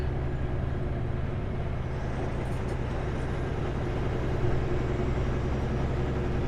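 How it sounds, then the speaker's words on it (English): Road traffic in Spokane, Washington heard from inside a moving car: a dense, steady rumble of engines and tyres with buses and trucks passing, continuous and fairly muffled throughout. "There is currently loud traffic on your route."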